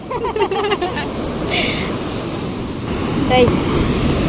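Sea waves wash onto a beach on the Kerala–Tamil Nadu coast, a steady broad rush of surf and wind swelling louder near the end, with people talking and calling out over it throughout.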